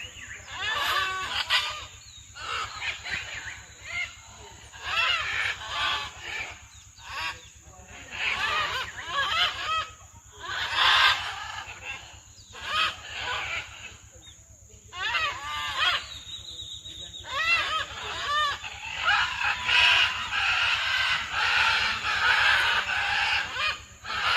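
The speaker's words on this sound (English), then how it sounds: "what it sounds like for these birds in the wild when they're in their natural habitat" A dense chorus of wild parrots in their natural habitat squawks and screeches continuously, many calls overlapping in loud bursts with brief gaps.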